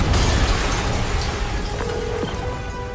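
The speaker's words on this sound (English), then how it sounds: "Yuri, an explosion just..." An explosion in the Spider-Man video game booms loud and close, then decays into a long rumbling roar with faint mechanical whines, and no voices.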